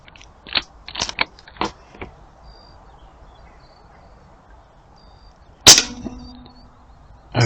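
An air rifle fires JSB Jumbo pellets on a quiet range, a sharp crack near the middle, with several fainter clicks and taps earlier and another onset at the end.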